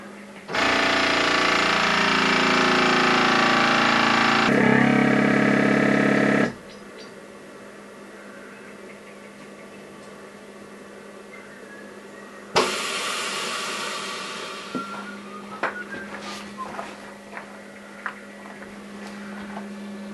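A vacuum sealer's loud, steady mechanical motor hum runs for several seconds, shifts pitch briefly, then cuts off, followed by quieter rustling and clicks.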